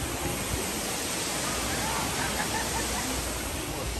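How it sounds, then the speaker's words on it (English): Steady, loud broadband rush of Dunn's River waterfall in Jamaica, a continuous roar of cascading water with no letup, heard up close and alone. "960 feet, that's the length of the waterfall."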